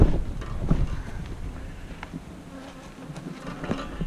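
Honey bees buzzing around a busy hive, a close, steady drone of many insects with scattered louder passes of individual bees flying near, heard alone without talk.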